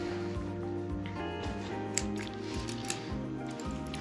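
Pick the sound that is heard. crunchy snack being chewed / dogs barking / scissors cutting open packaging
scissors cutting open packaging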